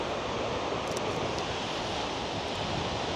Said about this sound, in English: There's a lot of wind blowing up here down that beautiful valley.